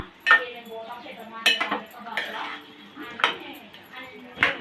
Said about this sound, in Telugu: ఒక 2 స్పూన్స్ కారం, ఒక 1 స్పూన్ ఉప్పు వేసుకొని కలుపుకుందాము